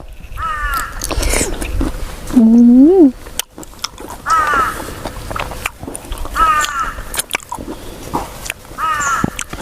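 Harsh, repeated cawing calls of a crow, several in a row at moderate distance, mixed with rustling and clattering noises.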